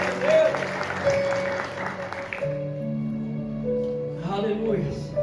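Church congregation applauding, a burst of many-handed clapping for about two seconds that gives way to voices and music.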